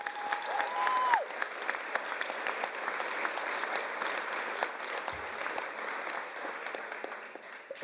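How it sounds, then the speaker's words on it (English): An audience at a 2022 college commencement ceremony applauds in a sustained, even wash of clapping that carries on steadily throughout at moderate volume. "I want to give a round of applause"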